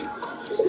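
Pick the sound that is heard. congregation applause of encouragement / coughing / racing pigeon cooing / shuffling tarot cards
racing pigeon cooing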